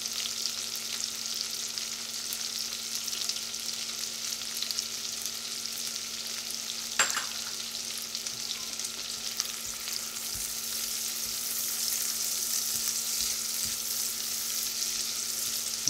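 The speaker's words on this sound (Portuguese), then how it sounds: "Enquanto tá fritando aqui," Quiet, continuous sizzling of dedo de moça chili pepper frying in a pan, with a faint steady hum and an occasional soft clink.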